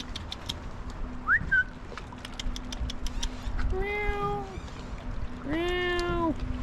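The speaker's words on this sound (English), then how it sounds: "it's a stray cat that's been following us all along the roads" A stray cat meows at a wharf in Lauterbrunnen, Switzerland: a short high call, then two longer, rising-and-falling meows, close and clear over steady outdoor background noise.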